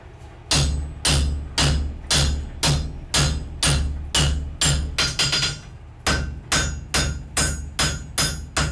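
Hot wrought iron is struck repeatedly on an anvil with a fuller, about seventeen sharp ringing hammer blows in a steady rhythm, close and loud, with a brief quickened flurry midway.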